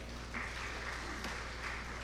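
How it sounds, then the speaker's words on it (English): Audience applause at a conference session, a steady wash of clapping with a low hum underneath, moderately close and sustained for the whole stretch without speech. "Please, another round of applause for him"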